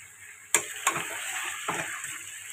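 Ground masala sautéing in hot oil for a white chicken curry, a soft steady sizzle broken by a few sharp clicks and scrapes of a spoon against the pan.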